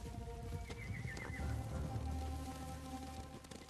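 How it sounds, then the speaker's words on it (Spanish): Horses approaching in the Ghost of Tsushima video game: a whinny rings out over a low rumble of hooves and steady rain, the herd sounding fairly close and building in the middle. "¡Caballos! ¡Vienen por nosotros!"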